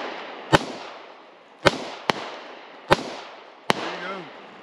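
Handgun shots fired down range at targets, five sharp cracks spaced roughly a second apart, each trailing off in a short echo, loud and close, no talking.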